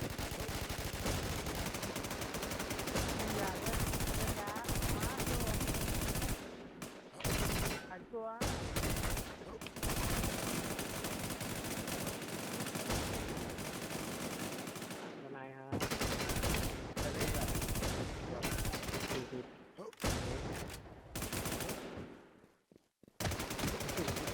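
Sustained gunfire from a Thai online shooting game set in a zombie server, dense and loud with rapid bursts and brief pauses throughout.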